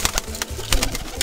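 Pigeons being raised as high flyers coo in soft repeated bursts, several low murmuring calls close by over a steady background hum.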